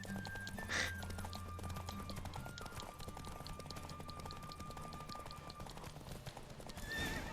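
Horse hooves gallop in a steady, fast clip-clop rhythm during a race in The Witcher 3: Wild Hunt, with occasional whinnies and soft game music underneath.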